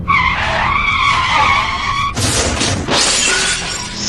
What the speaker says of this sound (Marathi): आणि त्यांचे ते ट्रक जाऊन एका झाडावर कोसळले.